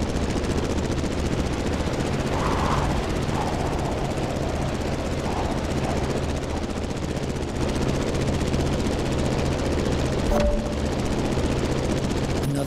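The propeller engine of a Granville GeeBee R Super Sportster racing plane drones loud and steady in The Crew Motorfest, with a buzzing, rattling roar that holds throughout and a brief sharp click near the end.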